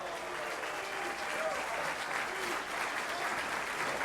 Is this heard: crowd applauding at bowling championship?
yes